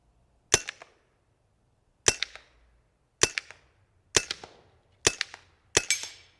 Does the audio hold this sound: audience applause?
no